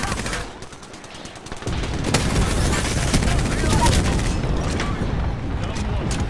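Airstrike explosions and heavy gunfire in the Apex Legends video game: a burst of loud booms and rapid shots begins after a quieter opening and keeps on densely, with players talking over it.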